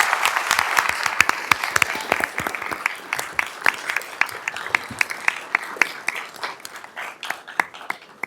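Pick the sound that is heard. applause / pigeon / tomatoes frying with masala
applause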